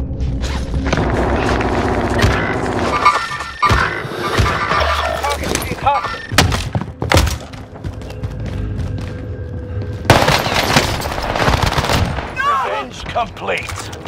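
Gunfire in the video game Call of Duty Modern Warfare, loud bursts of automatic fire and booming shots in bunches with pauses between, mixed with game voices and talk.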